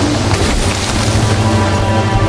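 A heavy explosion boom from the fantasy adventure video game Song of Nunu, set in the League of Legends world, roars in a dense, loud, rumbling wash that fills the short moment without letting up.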